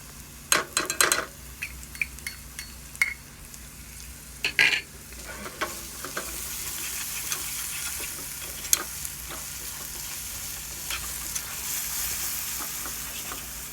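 Garlic sizzles in hot oil for garlic chutney, a steady frying hiss rising through the clip, broken early by sharp clinks and scrapes of a spoon stirring against the pan.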